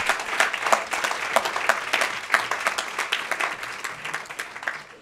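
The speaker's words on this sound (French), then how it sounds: "aux pépites d'applaudir pour nos éminents jurés qui sont avec nous aujourd'hui" A studio audience at the Pépites d'Entreprises business competition claps for the jury members. The applause is dense and evenly sustained throughout, with no voices over it.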